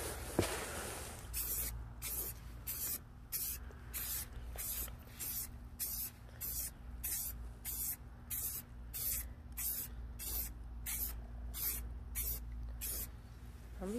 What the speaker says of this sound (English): You need to spray some more.